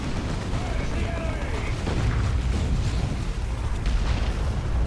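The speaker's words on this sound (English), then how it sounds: "And an orbital bombardment sent in by" Orbital bombardment in Warhammer 40,000: Dawn of War 2, a dense rumbling barrage of overlapping booms and blasts that runs continuously at a steady, loud level.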